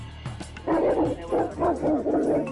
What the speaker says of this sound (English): These are mastiffs.